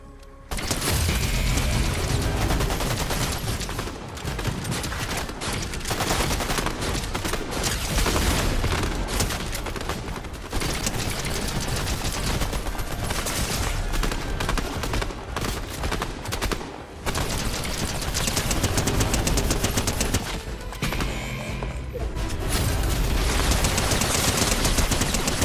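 Sustained loud gunfire with bursts of automatic shots and mechanical clatter, dense and nearly unbroken throughout, close and intense.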